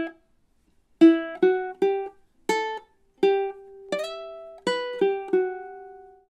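Ukulele picking a short melodic phrase, measures 15 and 16 of melody B in a fast picking exercise, a series of about ten clean plucked notes in steady rhythm, close and alone with no talk.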